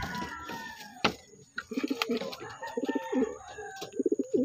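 Pigeons being flown in loops in the Philippines coo close by in soft repeated bursts, with a few sharper rustles and clicks, a steady faint whistle-like tone, and no clear speech over it.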